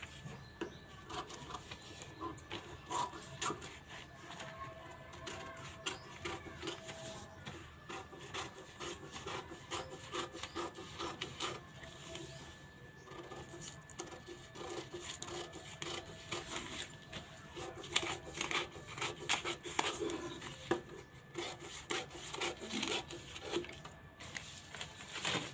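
Scissors cutting through a paper katori blouse pattern, a steady run of close, soft crisp snips and rustling paper that carries on throughout with no talking.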